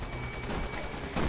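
Gunfire in the video game Resident Evil 6: a dense, continuous rattle of shots that holds steady and swells slightly louder at the very end.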